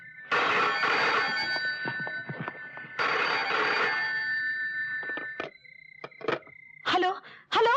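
A telephone rings at night in two long, loud trilling bursts, followed by clicks and faint handling sounds with a voice speaking briefly.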